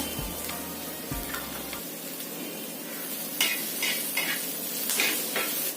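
Onion and chopped green chili dry-roasting in a pan without oil, a soft steady sizzle with spatula scrapes and light clinks of a utensil against the pan, no voices.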